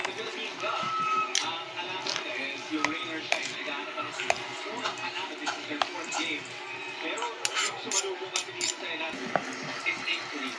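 A spoon clinks and scrapes against a bowl as tuna lumpia shanghai filling is mixed by hand, with irregular metallic taps throughout while people talk nearby.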